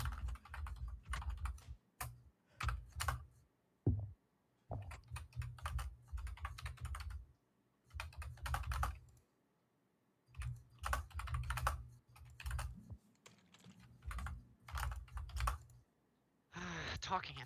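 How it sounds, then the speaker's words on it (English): Someone types on a computer keyboard in quick bursts of soft clicks broken by short pauses, heard faintly and close up in a quiet room while a group plays D&D online. "I'm still typing."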